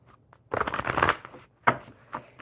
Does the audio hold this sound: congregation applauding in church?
no